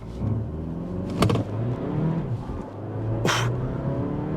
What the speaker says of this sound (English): we'll try brake torquing it again